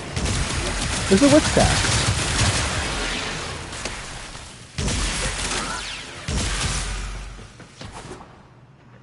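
Incarnon Torid weapon in Warframe firing in dense, continuous bursts with whooshing blasts and heavy booms, loud and near, while someone speaks briefly over it.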